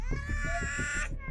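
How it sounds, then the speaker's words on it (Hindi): Two babies crying together in a tense drama scene, a sustained high wailing cry with rhythmic breathy sobs underneath, loud and close. "पता नहीं क्या हुआ, दोनों बच्चे रो रहे हैं।"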